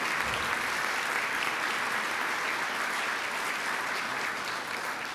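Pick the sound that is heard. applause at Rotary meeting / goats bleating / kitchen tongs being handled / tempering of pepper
applause at Rotary meeting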